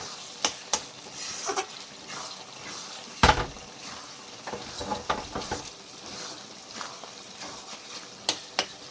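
Chicken fat frying in oil in a pan while ghugni is being made, a soft steady sizzle with scattered sharp pops and clinks, close and alone.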